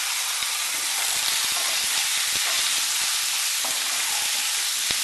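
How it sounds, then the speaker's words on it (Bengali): Pumpkin pieces frying lightly in a pan with curry leaves and mung dal, a steady bright sizzle and hiss held evenly throughout with occasional small pops. "কুমড়োটা কিছুক্ষণ হালকা করে ভেজে নেব।"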